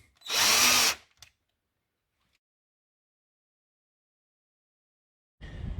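Power drill driving the screws of a propane tank gauge, one short loud burst under a second long, then a long silence before a second run starts near the end.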